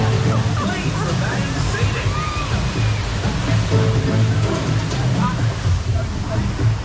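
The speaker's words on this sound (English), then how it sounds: "the lovely Congo Waterfalls" The Congo Waterfalls at Alton Towers theme park give a steady, loud, rushing roar of falling water, with a babble of nearby people and voices running underneath.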